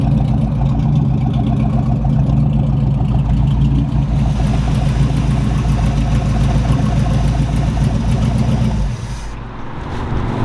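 A 350 Vortec V8 from a 1997 Tahoe, fitted in a project boat, idles loud and close with a steady, lumpy rumble; the sound dips briefly near the end.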